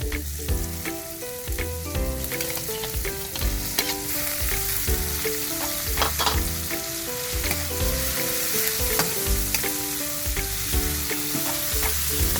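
Shrimp fry in a pan for pinakbet, a Filipino vegetable stew, giving a steady close sizzle and crackle with occasional stirring, and music playing softly underneath throughout.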